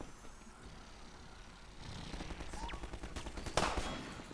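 Sniper rifle fire in the Half-Life 2 video game, a single sharp crack near the end over a low rumbling game background with scattered impacts.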